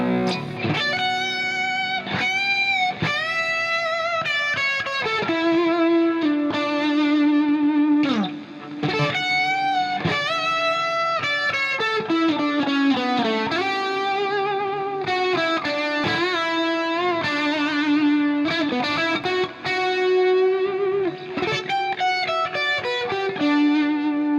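Heavily distorted electric guitar riffs and sustained lead notes through an amp-simulation plugin with compressor, thick with chorus shimmer and reverb, playing continuously and loud with no voices.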